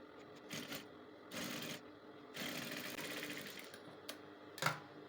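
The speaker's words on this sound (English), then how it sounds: "I'll hem that front side of the dress where I'm working with." A sewing machine hems the front edge of a button-down shirt dress with a ruched front, running in several short, quiet bursts with pauses between them.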